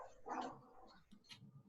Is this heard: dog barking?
yes